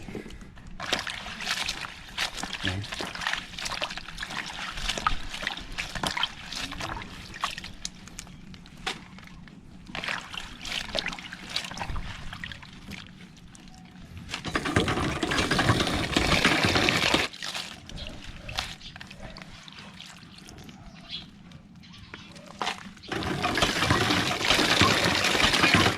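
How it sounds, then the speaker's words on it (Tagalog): Water sloshing and splashing in a basin as grasshoppers are washed and the water poured out and changed, uneven bursts of pouring and stirring at close range. "Siguro mga lima hanggang pitong beses nating kapalitan yung tubig."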